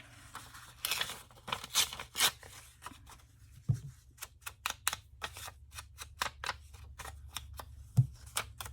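Music paper being trimmed for a junk-mail envelope craft: a series of crisp, close snips and paper rustles in quick uneven bursts, fairly quiet, with no talking.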